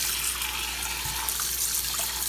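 Cold tap water runs steadily into a kitchen sink or pot while preparing ackee and saltfish, a continuous close hiss and splash with no pauses and no talking.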